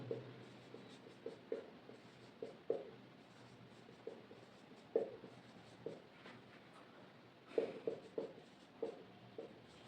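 A marker or chalk taps and scratches on a board during a Hindi vowel lesson in short, quiet strokes spread across the clip with pauses between them, and no talking is heard.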